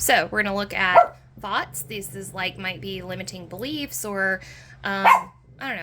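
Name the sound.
dog barking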